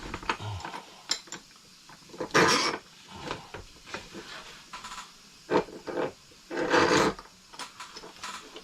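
Rough, scraping rubs of sandpaper on a wooden fish measuring board come in uneven bursts, with a few longer, louder strokes standing out against quieter scratching.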